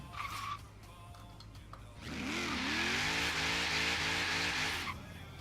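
A car doing a burnout in the video game Forza Horizon 3, engine revving up and holding high over continuous tire squeal for about three seconds, loud and close.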